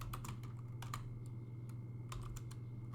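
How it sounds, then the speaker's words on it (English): Keystrokes on a computer keyboard in uneven bursts of quick taps with short pauses, close and moderately loud over a steady low hum, during a project recreating a kid's racing dinosaur game. "I'm typing the wrong things"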